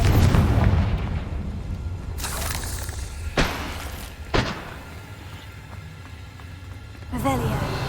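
A Confringo blasting spell detonates in Hogwarts Legacy, sharp explosive cracks with shattering debris bursting a few times amid busy game sounds, with a voice talking throughout.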